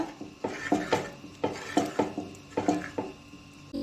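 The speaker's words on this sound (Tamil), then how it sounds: "நல்லா இந்த பருப்பை நல்லா மசிச்சு விட்டுக்கோங்க" Cooked lentils for sambar being mashed in a pot, a series of rhythmic soft thuds and scraping knocks of utensil against pot, close and fairly loud with no talking.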